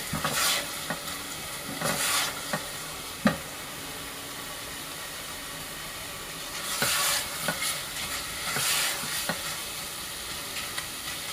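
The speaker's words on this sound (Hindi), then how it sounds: "अब इसमें चम्मच मसल से चलाते रहेंगे।" A spoon stirs chicken masala frying in a pan, giving scraping strokes in uneven bursts over a steady close sizzle, with a quieter stretch in the middle.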